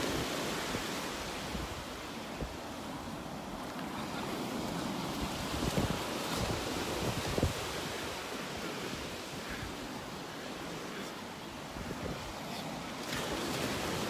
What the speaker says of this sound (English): I love just walking along here, listening to the waves.